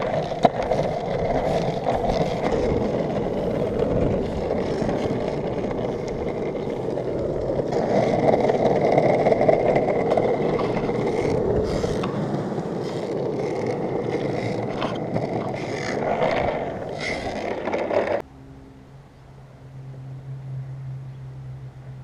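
A vintage Sector 9 pintail longboard rolls along pavement with a steady, rumbling wheel roar and wind noise, then slows and fades into a quieter hum near the end.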